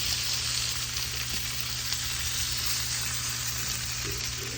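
Lemon pepper Spanish mackerel fillets with the skin on fry in hot oil, giving a steady, close, dense sizzle with small crackles and no talking.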